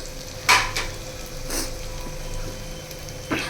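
Mutton dropped into a hot pan and frying, a low steady sizzle broken by a few sharp clatters of a utensil against the pan.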